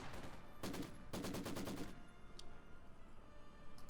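Two short bursts of rapid machine-gun fire in a World War II Company of Heroes 2 battle, quick rattling rounds followed by a lower background of distant battle noise.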